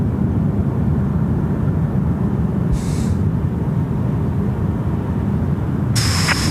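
A jet airliner departing Sydney Airport produces a continuous, loud, broad engine roar that holds steady across the whole stretch, with no talking.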